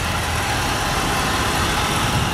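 The 5.7 liter Hemi V8 of a 2004 Dodge Ram 1500 Quad Cab idles close by, a smooth, steady rumble with no voices over it.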